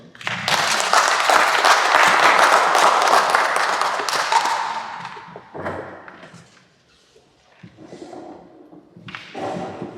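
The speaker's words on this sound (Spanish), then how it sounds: "Y les pido que lo recibamos con un aplauso." An audience at a cultural institute talk in León welcomes a speaker with several seconds of full applause that fades out, followed by scattered thumps and shuffling noises.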